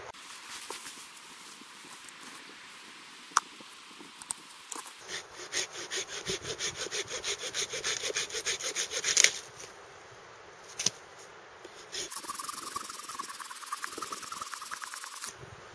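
Hand saw cutting through wet firewood outdoors in the rain to trim off the soaked outer layer, a steady rasping back-and-forth stroke rhythm, close and fairly loud, with no talking.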